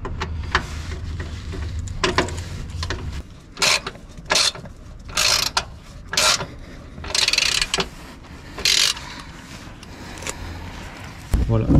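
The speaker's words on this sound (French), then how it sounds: "on prédévisse" A ratchet clicks in rapid bursts while unscrewing the large undertray screws beneath an Audi Q2's engine, close and fairly loud, with short gaps between bursts and someone speaking French at times.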